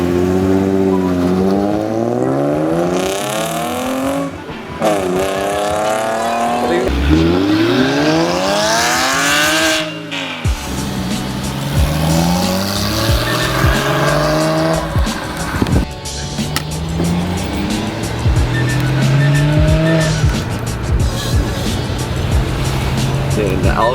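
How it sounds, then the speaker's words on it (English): A Porsche fitted with a loud $5000 aftermarket exhaust drives hard nearby, its engine revving in rising and falling sweeps while the tires squeal repeatedly over roughly twenty-four seconds. "get some footage of the exhaust and Phil's new wheels."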